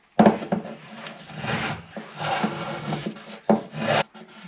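A hand scraper rasps along the wooden binding of an acoustic guitar body, close and alone, in several uneven strokes with short pauses between passes.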